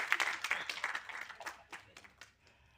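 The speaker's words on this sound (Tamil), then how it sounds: "நீங்கள் கைத்தட்ட மாட்டீங்க இருந்தாலும் கைத்தட்டுங்கன்னு சொல்கிறேன்" Sparse applause from an audience at a Tamil film music and trailer launch event: a scattered, thin patter of hands that starts moderately, grows uneven and dies away within a few seconds.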